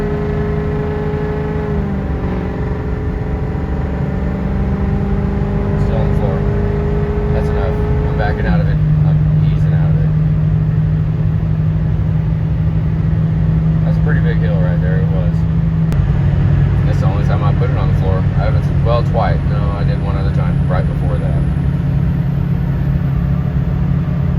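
A Ford 6.0 Powerstroke diesel truck at full throttle, its engine droning loud with a drop in pitch as it downshifts, then holding a strong steady roar, with a person talking over it.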